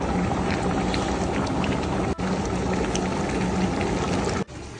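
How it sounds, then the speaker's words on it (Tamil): Water pours into a pot of crab gravy, a loud steady splashing and gushing heard up close, with brief dips in level near the middle and end. "3 லிட்டர் தண்ணி ஊற்றிக்கலாம்."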